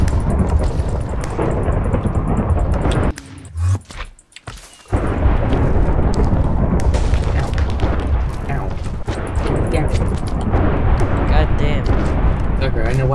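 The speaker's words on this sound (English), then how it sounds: "So much lightning!" Repeated booming lightning strikes rumble loud and near in a video game, with thunderous cracks that keep going under excited talk and briefly drop out before the roaring resumes.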